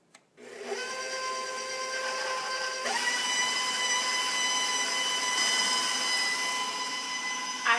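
An electric hand mixer creams chocolate chip cookie dough with eggs just added. It gives a steady, loud whine that starts abruptly, shifts pitch partway through, and runs continuously without talk.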